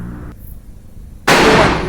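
A sharp gunshot-like blast erupts partway through, followed by a loud, sustained noisy burst that continues to the end, preceded by a quieter low rumble.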